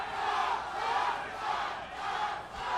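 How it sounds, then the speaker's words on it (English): Crowd at an XKO 35 fight between Chad Box and Ramon Jackson chanting "Box" in rising and falling waves of loud yelling, a rhythmic group chant filling the whole stretch without a clear single voice. "Crowd is fired up, yelling box right now."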